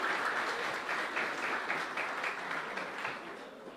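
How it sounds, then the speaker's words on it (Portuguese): Applause fills the room at a sports program launch, a steady wash of many hands clapping together that holds, then gently fades. "Vamos de palmas."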